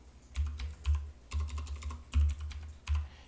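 Keys on a computer keyboard clack in short uneven bursts with brief pauses between, close and fairly quiet, typed during a coding lesson with no voices over it.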